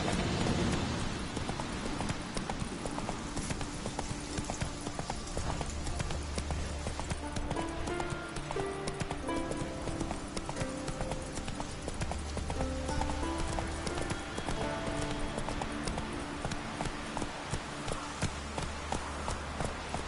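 Steady horse hooves clip-clop in a fast rhythmic gait throughout The Witcher 3, the galloping beat continuous and close over a soft game music bed.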